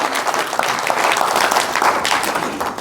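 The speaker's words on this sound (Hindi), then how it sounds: "एक बार तालियां बजाकर उनका स्वागत करें।" Audience applause welcoming a folk singer and film actor at a village devotional jagran, a dense, steady burst of many hands clapping that holds at full strength for just under three seconds with no voices over it.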